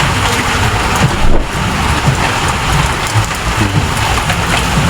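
Heavy, nonstop rain pours down hard and close, a loud dense hiss with low rumbling and gusts of wind buffeting the microphone.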